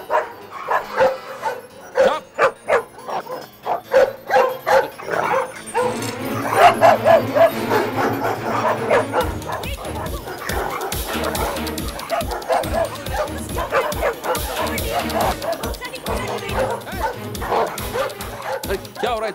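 Several dogs bark, yip and whimper in a rapid, loud chorus in a Hindi film scene, with voices and music underneath and a busy, clamorous mix throughout.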